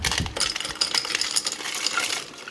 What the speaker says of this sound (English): Then we're going to pour our ice in.